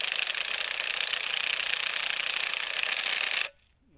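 An impact wrench or similar power tool zips off half-inch bolts on a 17.5 hp Briggs engine during a decompression release camshaft repair, a loud steady whir running nearly four seconds before cutting off abruptly.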